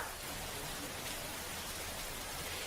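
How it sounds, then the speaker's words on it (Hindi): Heavy rain falls during a storm with hail in eastern Uttar Pradesh, a dense, even hiss of downpour that runs unbroken and stays faint throughout. "आज सुबह से पूर्वांचल के अलग अलग इलाकों में तेज बारिश हो रही है।"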